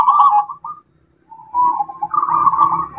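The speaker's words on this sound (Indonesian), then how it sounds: "Jadi perkutut di bawah pada bunyi kita cek satu" A local zebra dove (perkutut) coos up close in two tonal phrases separated by a short silence, with no other sounds or voices.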